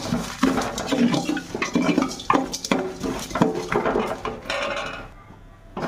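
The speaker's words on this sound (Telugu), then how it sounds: "మెంతులు, ఆవాలు, జీలకర్ర ఇవన్నీ కూడా యాడ్ చేసి రోస్ట్ చేసుకోవాలి బాగా" Fenugreek, mustard seeds and cumin being dry-roasted in a pan for sambar powder, with close scraping and clattering of a spatula against metal in quick irregular strokes and a faint sizzle.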